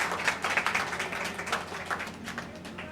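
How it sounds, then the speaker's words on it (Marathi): An audience at a talk on superstition claps lightly in a brief, loose patter of scattered hand claps, fairly close and moderately soft, tapering off toward the end. "थोड्याशा टाळ्या वाजवा, बरं वाटेल थोडं."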